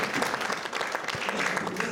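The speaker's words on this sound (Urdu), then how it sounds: "تو اس پہ بہت ساری لاشاری صاحب کے لیے تالیاں." Audience applause at a farewell party in London, a steady, dense wash of clapping from many hands that continues evenly for the whole stretch.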